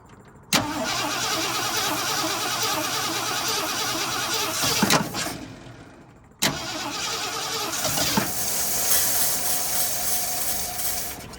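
An abandoned old Ford F350 truck engine, sitting unused for 22 years, cranks and catches twice. Each time it settles into a loud, rough, close idle, and between the two runs it stalls and falls quiet.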